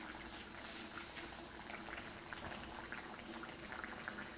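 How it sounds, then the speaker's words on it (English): A stew or braise simmering in a covered-to-be pot, a faint steady bubbling and gentle liquid burbling with soft irregular pops, quiet and continuous. "So we're gonna bring this to a simmer, and then we cover this."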